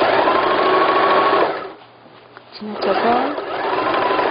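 A sewing machine stitches a bed cover in fast, steady bursts, pausing briefly in the middle before resuming, close and clear, with someone speaking briefly over the quiet gap.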